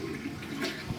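A toilet in an Airbnb suite flushes, a steady rushing of water lasting about a second, fairly close and with no voices.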